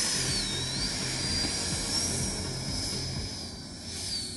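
Two electric ducted-fan RC jets, an E-Flite FA-18 Hornet 80mm and an E-Flite F-16 70mm, fly overhead with a loud, continuous high-pitched whine and rushing roar that shifts pitch as they pass.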